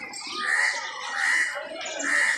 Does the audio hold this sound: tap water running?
no